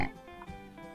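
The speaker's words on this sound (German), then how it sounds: "Im Übrigen hier sind wieder kleine süße Schweinchen." Small cartoon pigs in the farming video game Song of the Prairie give a few short snorting oinks, close and moderately loud over faint game background.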